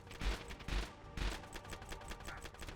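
Shotgun fire in the VRChat video game, heard as a few sharp, punchy blasts in quick succession followed by rattling gunfire-like bursts, moderately loud with no talking.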